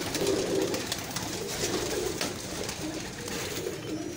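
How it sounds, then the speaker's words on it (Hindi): Breeder pigeons coo softly in a loft in the old walled city of Lahore, a few low, throaty murmurs repeating over a quiet, steady background. "बड़ा अच्छा ब्रीडर कबूतर है ये भी"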